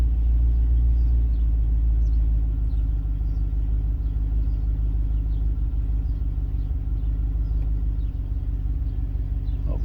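A 1994 Range Rover engine idles smoothly after an ECU swap, with the airflow meter still fluctuating. It gives a steady, close, low rumble that runs without a break and with no talking.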